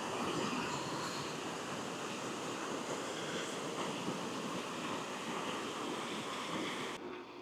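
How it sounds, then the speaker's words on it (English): A river running high rushes steadily with broadband water noise, mixed with wind buffeting the microphone on a cool day outdoors. No one speaks. "can see how much the river's flowing."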